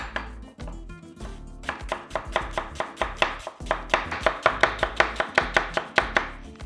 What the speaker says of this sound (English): We're also going to cut this into 1/4 of an inch thick slices.